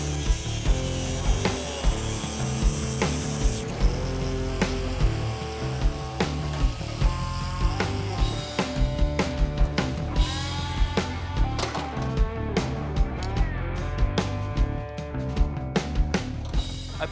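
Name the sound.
cutting dune buggy chassis tubing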